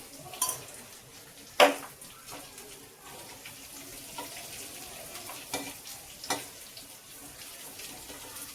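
Garlic frying in a pan with a quarter spoon of turmeric for brinjal bharit with fenugreek and spring onion, a soft steady sizzle broken by a few sharp spoon scrapes and clinks against the pan.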